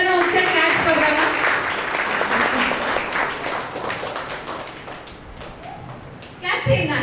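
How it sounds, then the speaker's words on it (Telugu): A church congregation at a Father's Day Sunday service claps for a new father. Loud, crisp clapping fills the opening seconds, then thins into scattered claps and fades, and a voice begins speaking at the end. "లెట్స్ అన్నకి అందరం ఒకసారి క్లాప్స్ కొడదామా?"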